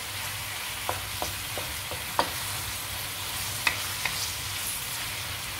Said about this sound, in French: Là, par contre, il mélange bien. On va laisser cuire ça tranquillement.